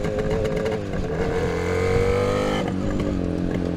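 A 1970 Suzuki T500 Titan two-stroke motorcycle engine runs steadily nearby, its loud buzzing idle rising slightly in pitch midway as the throttle is blipped, with no talk over it.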